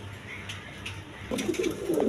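Pigeons coo in a low, steady murmur at moderate distance, and denser fluttery calls build toward the end with no voices over them.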